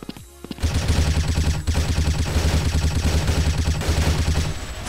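Sustained automatic fire from an HK416 rifle in the Blood Strike shooter game, a loud, dense stream of rapid shots running almost without pause after a brief quiet start.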